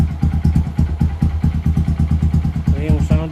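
A 2015 Honda XR150L motorcycle with a J-Pol exhaust idles cold in a steady, loud, throbbing rhythm of evenly spaced pulses, with a voice speaking briefly over it near the end.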